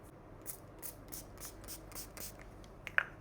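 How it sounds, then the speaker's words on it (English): Several short, soft hissing bursts of a fine face primer mist spray, quiet and close, spaced irregularly over a faint background hush. "So I'm going to prime my face with this Sunheri spray."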